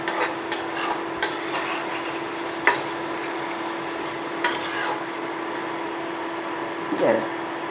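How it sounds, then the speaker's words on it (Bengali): Chicken curry with garam masala is stirred in a pan on an induction cooktop, with occasional spoon taps and scrapes over a steady low hum and soft sizzle, near and moderate. "অল্প একটু গরম মশলা দিলাম, এবার একটু নাড়াচাড়া দিয়ে নামিয়ে দিলাম।"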